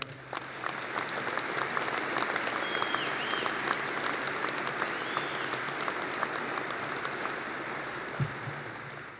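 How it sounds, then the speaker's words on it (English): An audience applauds the winners of an apprentice contest, a sustained, even roar of many hands clapping at moderate distance, steady from start to finish. "a round of applause"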